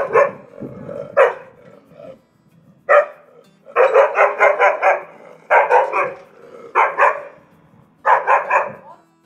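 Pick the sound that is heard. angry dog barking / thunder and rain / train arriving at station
angry dog barking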